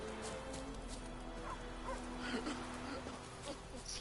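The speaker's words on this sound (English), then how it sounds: "I'm hearing a dog, and I want that dog." A dog in the video game The Witcher 3: Wild Hunt, with faint yelps and whimpers over village ambience and clopping, fairly distant and quiet.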